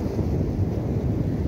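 Strong wind buffets the microphone at the beach at Cap d'Agde, a loud low rumbling roar that is constant and close, with no voices.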